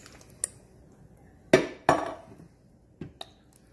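Stew ingredients are pressed down in an Instant Pot, a few sharp metallic clanks and knocks of a utensil against the pot, spaced irregularly with quiet gaps between.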